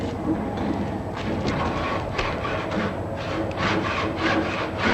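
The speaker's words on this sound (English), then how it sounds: "Clamping saw, the one with the transverse saw blade, is moved vertically up and down in front of the body" A clamping saw with a transverse blade, worked vertically up and down, cuts through a tree stem in traditional wheelwright woodworking, giving steady rhythmic rasping strokes up close.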